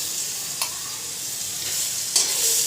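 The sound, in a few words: garlic frying in oil with black cumin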